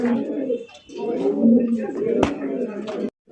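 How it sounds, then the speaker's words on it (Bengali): Large Madrasi Golla pigeons coo in low, throaty bursts, close by, with a sharp click partway through and a short silent gap near the end. "মাদ্রাজি গোল্লা কবুতর, বিশাল বড় সাইজের মধ্যে।"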